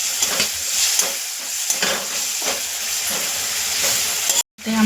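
Masala sautéing in hot oil for a capsicum curry, a steady close frying hiss with soft crackles and stirring scrapes throughout, briefly cutting out near the end.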